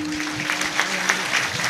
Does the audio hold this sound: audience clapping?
yes